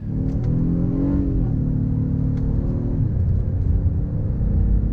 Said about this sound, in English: And so I'm gonna go into sport mode, and we'll see how that goes for us here in just a minute.